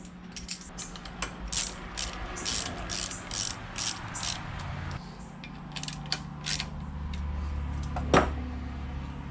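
Ratchet clicking in quick rhythmic bursts as bolts are snugged on the lower unit of a 1992 Johnson 25 hp outboard, close and fairly loud, with a sharper clack near the end.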